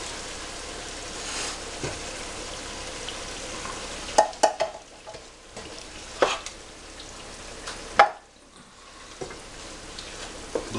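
Crushed tomatoes going into a pasta pie mixture and being stirred in a pan, a soft continuous sizzle with scattered spoon scrapes and clicks, close, with no voices.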